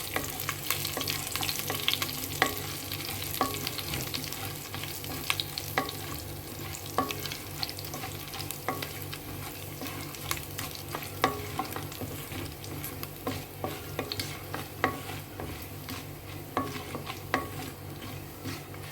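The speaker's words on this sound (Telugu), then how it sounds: "మినపప్పు ఆవాలు జీలకర్ర ఇన్ని వేసి చక్కగా యాగనివ్వండి" Garlic, urad dal, mustard seeds and cumin fry in hot oil with a steady, close sizzle. Repeated scrapes and clinks of a spoon stir them throughout, and nobody speaks.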